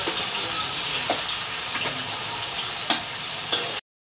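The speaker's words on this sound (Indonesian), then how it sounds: "ini saya goreng kita punya tahunya dulu" Tofu fries in hot oil in a pan with a dense, steady sizzle and crackle, broken by a few sharp pops and spatters, loud and close, with no talking.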